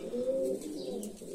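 Pigeons coo inside an aviary, a soft low hooting run in the foreground with faint chirps above it, steady throughout with no talk.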